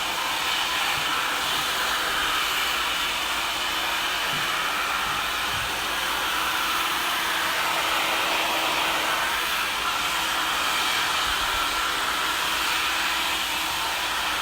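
A hair dryer blows steadily on high heat while drying curly hair for a layered bob cut, a loud, continuous airy roar that holds unchanged from start to finish with no talking.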